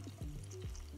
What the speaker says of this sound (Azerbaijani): Elə eyni tavanın içərisinə kök və kabaçkini tökəcəm.